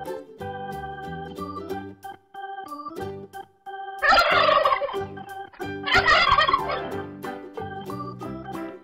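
A domestic farm turkey gobbles in two loud, rapid rattling bursts, rising sharply above steady music playing throughout.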